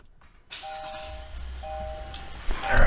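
Kia K5 with a 1.6L turbo engine and cold air intake starting up: a brief chime tone sounds, then the engine cranks and catches into a steady close rumble that swells at the end.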